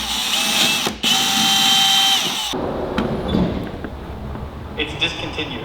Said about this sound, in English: let's go ahead and drill our 4 holes to get our controller mounted